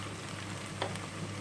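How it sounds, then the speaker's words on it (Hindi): Cumin seeds and finely chopped green chillies fry with a dense, steady, close sizzle, with one brief louder crackle near the middle and no voices. "अब इस टाइम पर हम इसके अंदर जीरा ऐड करेंगे, बारीक कटी हुई हरी मिर्चें"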